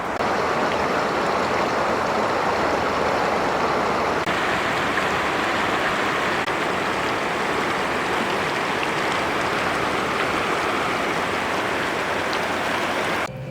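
A small mountain creek in Colorado flowing steadily, its close, continuous rushing and burbling filling the scene at an even loudness with no voices.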